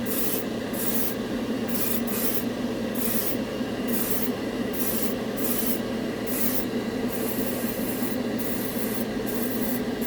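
An airbrush sprays Turbo Dork color-shifting paint over a cheap chrome base coat, a steady close hiss broken by short repeated bursts of brighter spray across the whole stretch, with no voices.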